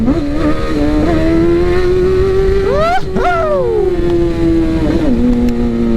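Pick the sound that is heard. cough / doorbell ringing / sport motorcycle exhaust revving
sport motorcycle exhaust revving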